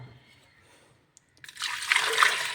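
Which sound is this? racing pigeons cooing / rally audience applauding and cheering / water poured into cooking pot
water poured into cooking pot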